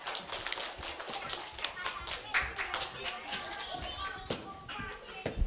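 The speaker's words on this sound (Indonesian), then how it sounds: "Udah, tepuk tangan semuanya." Kindergarten children clap together in a busy, uneven patter of many small hands that runs steadily through the whole stretch. Chatter and voices mix in underneath.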